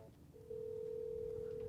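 During an Asterisk phone system call demo, a quiet room falls still, then a single steady telephone ringing tone begins and holds unbroken to the end.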